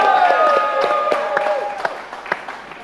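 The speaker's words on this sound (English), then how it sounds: "Give Robbo a bit of a round of applause." A small studio quiz-show crowd gives a contestant a brief round of clapping, a ragged burst that fades over a few seconds under a sustained musical tone.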